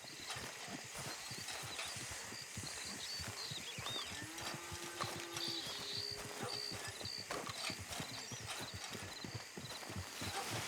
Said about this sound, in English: As you hear the horses coming past.